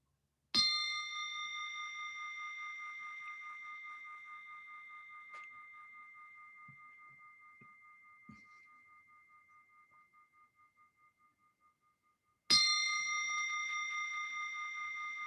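A meditation bell rings out clearly twice, about twelve seconds apart, each strike leaving a long, slowly fading shimmering tone with a few faint small knocks in the quiet between.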